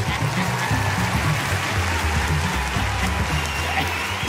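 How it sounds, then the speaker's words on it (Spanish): Audience applause at a comedy festival, a dense steady clapping from a large crowd that fills the whole moment without a break, loud and close, with a few scattered voices mixed into it. "¿Aplausos o qué?"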